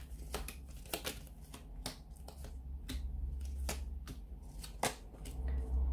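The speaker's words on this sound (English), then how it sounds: "So we'll give the cards a shuffle." Rapid riffling and snapping of a deck of cards being shuffled during a card reading, a quick series of sharp, close-up flicks.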